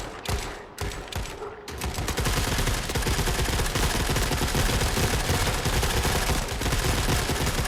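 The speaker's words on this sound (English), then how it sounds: "I'm firing the head gun and it's not really doing anything" The head gun of a mech in The Forever Winter fires a dense, continuous burst of rapid automatic gunfire, loud and close. A few short separate shots come first, then a long unbroken stream of fire.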